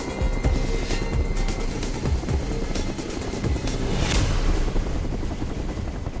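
A helicopter carries a stone marker toward an 800 m mountain peak. Its rotor and engine make a loud, steady, close roar that fills the whole stretch without a break.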